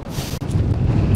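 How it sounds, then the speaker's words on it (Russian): Strong wind buffets a mountain summit, a steady broadband roar with gusty low rumble that runs continuously and loudly, with no voices. "усилился ветер"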